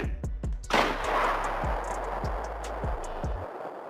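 A rapid series of sharp gunshots in Minecraft fires in quick succession, a dozen or so cracking pops, one heavier blast near the start, over a hissing noisy background.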